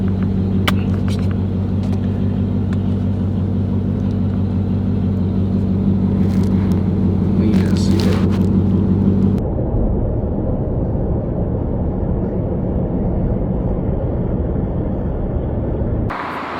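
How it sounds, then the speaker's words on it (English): Magnuson-supercharged ZL1 1LE Camaro rolling up at a street race meetup spot, a deep low engine rumble with a steady droning hum that shifts midway into a rougher, closer idle burble, no talking. "There's the ZL1 that's pulling up right now."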